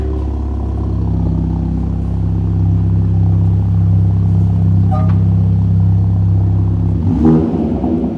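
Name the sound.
2021 Mini Cooper S F56 engine with muffler deleted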